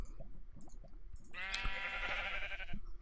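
A sheep summoned in a video game bleats once in a long, wavering cry that rises out of soft background clicks and shuffling, fairly near and clear.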